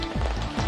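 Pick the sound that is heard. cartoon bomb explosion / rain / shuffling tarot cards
rain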